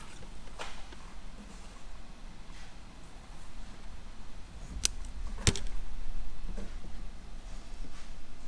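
Cutters snipping through a battery cable during a dual battery install in a 200 Series, two sharp clipped snaps close together over a quiet workshop background.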